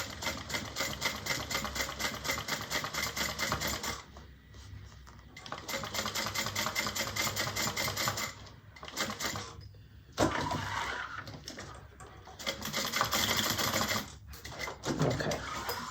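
A home sewing machine topstitches a bag panel in several bursts of rapid, rhythmic clatter, separated by short pauses where the needle stops, close and moderately quiet.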